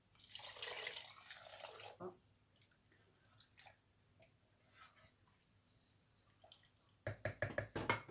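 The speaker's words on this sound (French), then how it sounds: "Et je commence à mettre l'eau maintenant. Je mets 2 bols d'eau." Water poured into a cooking pot on a gas stove for barkouks, a short splashing pour at the start and another burst at the end, with faint kitchen knocks between.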